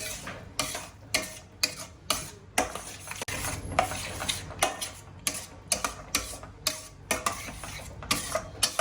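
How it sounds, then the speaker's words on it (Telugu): Yogurt being stirred into a dum aloo masala curry, a spoon repeatedly knocking and scraping a metal pot in a steady brisk rhythm, close and clear with no talking. "మనం పెరిగేసినాక బాగా కలుపుతూనే ఉండాలండి"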